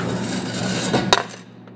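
A Screaming Eagle motorcycle exhaust baffle is slid out of its pipe. A continuous close metallic scraping ends with a sharp clank, then brief rattles before the sound stops.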